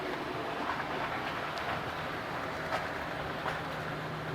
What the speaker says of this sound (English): There's another train going by.